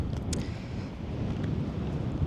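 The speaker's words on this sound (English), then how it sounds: "It's really windy today." Steady low rumbling wind buffeting the microphone near a lighthouse in Fuerteventura, continuous and loud throughout with no voices.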